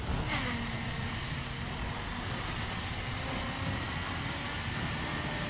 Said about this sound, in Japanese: エンジンかかっちゃってるよこんなの。